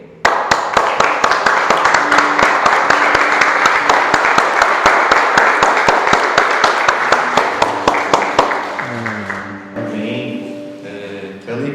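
A church congregation at an 84th anniversary worship service claps hands in a steady, even beat for several seconds, close and loud, before singing and music rise as the clapping thins out.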